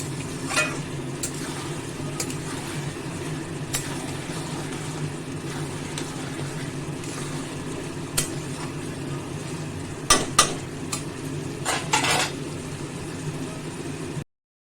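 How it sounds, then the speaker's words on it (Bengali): Bottle gourd curry with fish head stirred in a pan over a gas flame, a steady low sizzle with scattered utensil scrapes and a few sharper clinks of the spoon against the pan near the end, no voices. "ভালো করে ঘেঁটে দেব তেজপাতাগুলো তুলে ফেলে দেবো"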